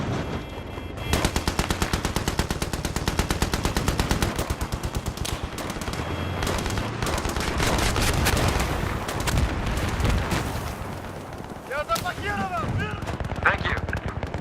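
Rapid machine gun bursts in a first-person shooter battle, dense and loud, run almost continuously with scattered shots and explosions, while radio-style voices call out orders over the gunfire.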